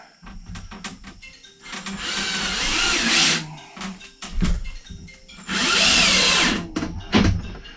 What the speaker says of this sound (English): So what I'm gonna do is just get some screws started here